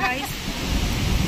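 Storm wind roars through a village as a loud, continuous rushing noise, with gusts and rumbling underneath and no other clear sounds.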